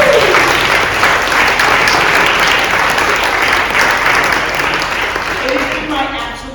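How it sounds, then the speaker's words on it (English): A crowd at an accordion performance breaks into loud, sustained applause, a dense, even roar of clapping with faint voices mixed in that tapers slightly toward the end. "How about a round of applause for Deja back there?"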